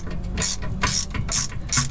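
A 10 mm socket ratchet clicks in short bursts while tightening transmission pan bolts on a Mercury Grand Marquis, four quick close ratcheting runs with brief pauses between them.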